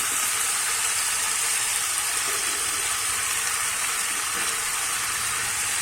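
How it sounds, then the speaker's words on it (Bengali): Fried potatoes and prawns sizzle in a hot pan of spiced masala for a fig curry, a steady close, dense hiss of frying oil with no talking. "এবারে কিন্তু ভেজে রাখা আলু আর চিংড়ি মাছটা দিয়ে দেবো"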